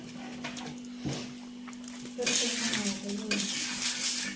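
Dhapate flatbread cooks on an iron griddle over a wood-fired chulha stove, with soft sizzling, scraping and clinks of a utensil. The sound grows louder and busier partway through.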